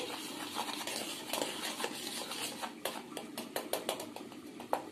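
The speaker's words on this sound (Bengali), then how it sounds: "আমি এটাকে ব্লেন্ডারের সাহায্যে একটু মিশিয়ে নিচ্ছি" Prawn fry batter being mixed with a hand blender makes a rapid run of clinking, tapping strokes against the bowl over a soft continuous whir, growing busier toward the end.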